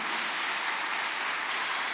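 Members of a Catholic prayer group clap together in a dense, uniform burst of many hands, sustained and fairly loud, with no voices over it.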